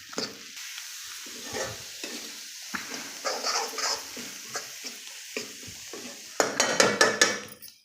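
Raw banana and egg fry with pepper-cumin powder and salt, giving a soft sizzle under irregular stirring scrapes and taps, ending in a louder burst of clattering utensil strokes.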